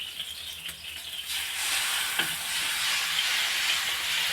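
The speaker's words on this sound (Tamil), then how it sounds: "இப்போது தோசை ஊற்றிக்கலாம்." Egg onion dosa batter poured onto a hot pan, a steady, loud sizzling hiss that swells after a moment and keeps crackling close up with no voices.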